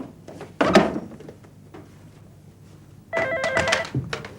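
Two bursts of an old telephone bell ring out indoors, a short clang followed by a longer ringing burst a few seconds later, set in a classical Pakistani drama scene.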